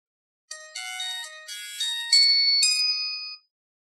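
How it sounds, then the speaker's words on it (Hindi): A cheap Chinese mobile phone plays its power-on startup tune after a short-circuit repair, a clear bright electronic chime melody of rising tones lasting about three seconds, heard alone in silence. "मोबाइल को मैंने किया पावर ऑन"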